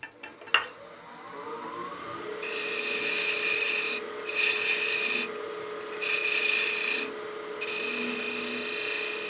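A wood lathe turns a tenon on a bat house ornament as the tool trims its taper, a bright scraping hiss coming in several bursts with short pauses over a steady motor hum.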